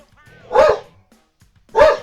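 A pet dog barks twice indoors, two sharp, loud woofs spaced about a second apart with near silence between them.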